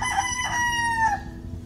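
A gray-brood gamecock stag crows once, a harmonic, slightly hoarse call rising and trailing off over about a second, fairly close with low background noise and no talking.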